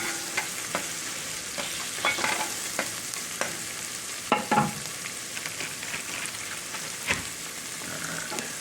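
A stir stick scraping and clacking in a cast iron skillet over a steady frying sizzle, with irregular knocks and scrapes throughout, close and alone without talk.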